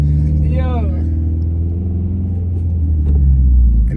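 A 300+ hp Subaru WRX pulls away, its engine a loud, deep rumble rising gently from inside the cabin, with a rising whine near the start and a person speaking over it.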